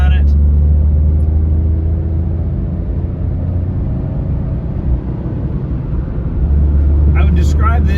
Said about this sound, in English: Today we're driving this 2008 Smart Car